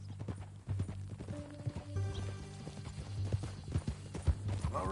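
Horse hooves clip-clop steadily in Red Dead Redemption 2, a rhythmic walking beat up close with a brief whinny and game music tones underneath.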